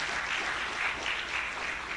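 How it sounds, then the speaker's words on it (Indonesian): Audience applause at a self-improvement gathering, a steady wash of clapping that holds evenly for the whole stretch with no voices over it. "Tepuk tangan"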